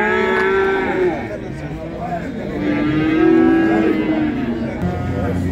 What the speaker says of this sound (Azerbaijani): bu belə ürkək danalar var qardaş